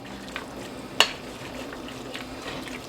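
A spoon stirs and scrapes Hamburger Helper three cheese pasta mix with water in a pot. It gives a quiet, steady wet swishing, with one sharp clink against the pot partway through.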